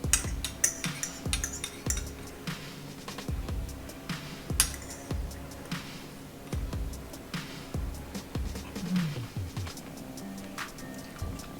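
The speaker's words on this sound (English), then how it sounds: "Just scoop up some of the pineapple and the cabbage" A spoon scoops through Hawaiian-style coleslaw of pineapple and cabbage, producing a string of light clinks and scrapes against the bowl at an irregular rhythm, close and fairly quiet.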